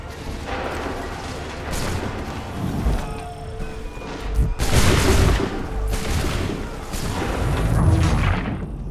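Musket volleys in Assassin's Creed 3 at the battles of Lexington and Concord, several loud booming rolling salvos with crackling shots between them, under distant shouted orders.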